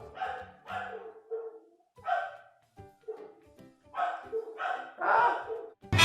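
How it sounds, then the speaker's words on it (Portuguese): A dog barks in repeated bursts, a few sharp barks then short pauses, with some higher yips mixed in; loud and close, with no other sound competing. "E cala a boca, cachorro, para eu poder explicar as coisas."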